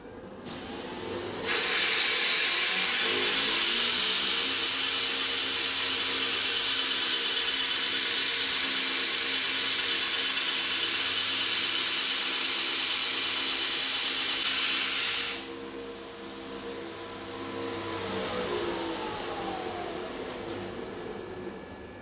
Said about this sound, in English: We've got to work that back and forth and blend it into the whole area as we grind it down.